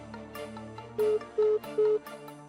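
A phone ringtone plays alone: a steady melodic tone followed by three short, loud repeated beeps with brief gaps between them.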